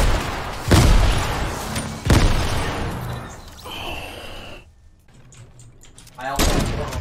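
Grenades detonate in a Fortnite match, with three loud, close booms spaced a second or more apart, and a voice is heard between the blasts.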